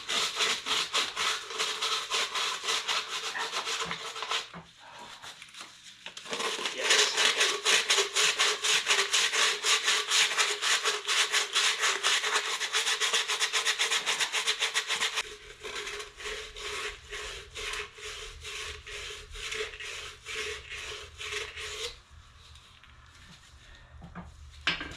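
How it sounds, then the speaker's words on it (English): Sandpaper rubs in rhythmic back-and-forth strokes against a cylinder wall of a Minneapolis Moline RTE tractor engine, a close, loud raspy scrubbing in several long bursts with brief pauses. "I'm going to take sandpaper and see if I can clean this wall up"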